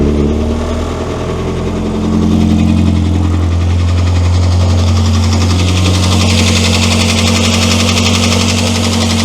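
A Morris Minor car engine starts with the choke on and settles into a loud, steady idle with a low rumble, heard close and continuous. A voice comes in briefly over the idle.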